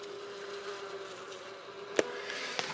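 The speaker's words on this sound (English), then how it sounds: "It sounds like there's a lot of bees buzzing in there" Honey bees buzzing inside five stacked honey supers full of honey in a basement spare room, a steady faint drone with a couple of sharp knocks near the end.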